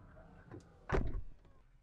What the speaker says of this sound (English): To close it, I hit the button here on the door,